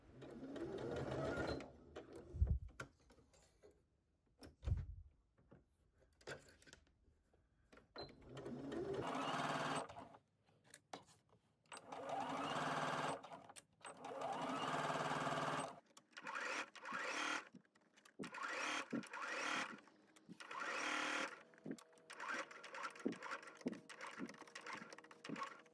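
A home sewing machine stitches the collar sides and bottom edge of a summer dress at a 3/8 inch seam allowance, running in bursts of steady whirring broken by pauses and slower stop-start stitching around the corners.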